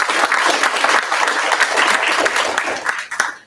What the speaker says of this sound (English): And so we can give them a round of applause.